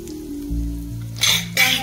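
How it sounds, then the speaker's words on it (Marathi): A tempering of turmeric, chili pieces and coriander for raw mango pickle is stirred in a pan, with two short bursts of sizzling over a quieter background. "फोडणी व्यवस्थित आपण फिरवून घेऊया"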